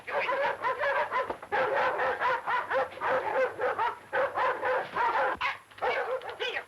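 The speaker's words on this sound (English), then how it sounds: "What are the dogs doing here?" Dogs barking rapidly and continuously, a dense chorus of overlapping yaps and yelps, loud and close, with no pause.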